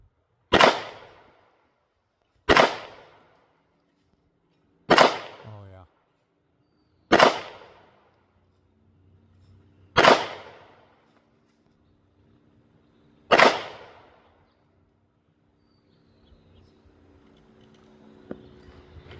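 Six sharp Canik pistol shots ring out at an outdoor range, spaced a few seconds apart, each loud crack trailing a short echo, with faint talk and background noise between.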